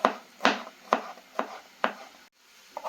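Garlic finely chopped with a knife on a board while making a creamy potato and wild mushroom soup: five sharp, close, evenly spaced chops, a short pause, then another cut begins, with no talk.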